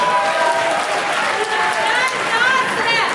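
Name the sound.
concert audience applauding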